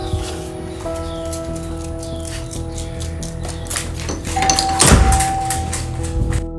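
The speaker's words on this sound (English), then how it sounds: "the doorbell suddenly begins to ring for no reason" An electronic doorbell rings with sustained chiming tones, accompanied by light rustling and a brief thump partway through.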